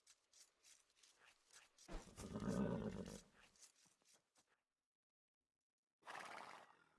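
Horses in a video game map give a loud, drawn-out neigh in the middle, followed by a shorter neigh after a silent gap, with quiet clip-clop and low noises beneath.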